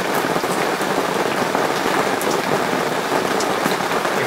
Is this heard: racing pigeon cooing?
no